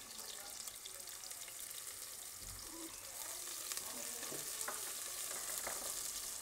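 Garlic frying with onions in vegetable oil: a dense, hissing sizzle runs throughout at a steady level, with light scrapes and clicks from stirring and a faint voice at one point.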